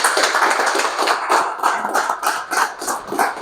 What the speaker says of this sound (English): I want you to give a big round of applause for Coach